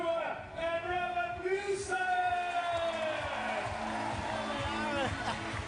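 Crowd cheering and whooping around beach volleyball champions of the Netherlands as they celebrate gold on centre court, a steady roar of raised voices with sustained shouts rising over it.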